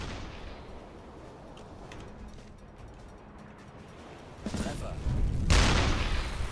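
A torpedo strikes a merchant ship in the UBOAT submarine game, and a deep, heavy boom swells out of a quiet low rumble, followed by a second, louder rolling blast near the end.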